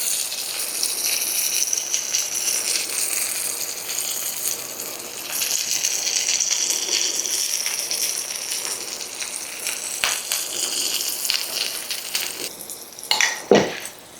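Food sizzles steadily in a hot pan as a continuous loud hiss with crackles, ending in a few sharp clanks of a pan or dish near the close, no talking.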